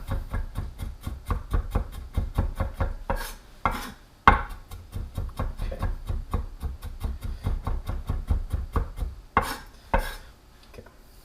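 Garlic being chopped with a knife on a cutting board, a fast, steady run of crisp close taps in regular rhythm, broken by a few louder scraping strokes across the board, with no voices.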